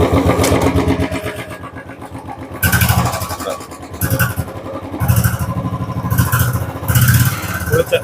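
A Royal Enfield Bullet motorcycle engine starts up close by and runs with a deep, thumping throb that swells in a few louder surges, with no talk over it.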